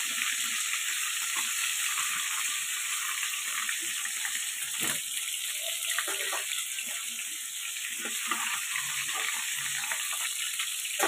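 Fish frying in a nonstick pan gives a steady, close, continuous sizzle and crackle with occasional spatters and light clinks, with no voices.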